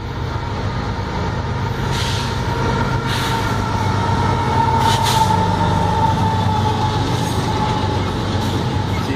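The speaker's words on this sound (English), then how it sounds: "here's the train." A train pulls into a station somewhere in Delaware in the afternoon, a steady loud rumble of wheels and cars on the rails with faint squeals and clanks, heard up close with no talking.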